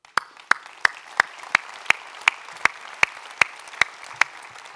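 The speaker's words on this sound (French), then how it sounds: "Et on peut, je pense, l'applaudir aussi, ton papa." Evenly spaced, sharp claps repeat about every third of a second for nearly five seconds, a steady rhythmic applause from an audience at a business talk event, honoring the host's father.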